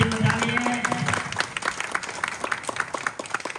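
An audience claps at a temple anniversary festival prize distribution, a sustained round of many hands applauding nearby, with a voice and some tonal sound briefly audible at the start.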